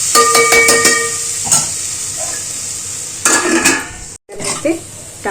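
Tomatoes go into a pan of cooking ivy gourd, with clinking metal utensil scrapes and knocks against the pan over a soft frying sizzle, in a few bursts separated by quieter gaps.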